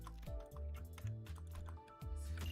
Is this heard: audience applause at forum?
no